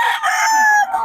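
A single rooster crows once, loud and close, in a sustained call that wavers and trails off.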